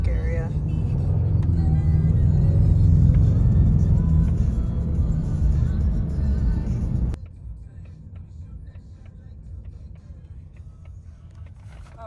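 A car driving through Sedona toward the Cathedral Rock picnic area, with loud cabin road and engine rumble that drops abruptly to a quieter, steadier drone halfway through, and faint voices beneath.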